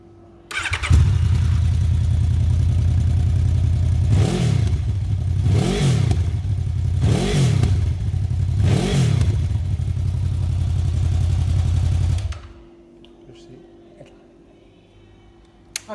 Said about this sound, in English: Really nice sounding is that exhaust, and we'll get to that now.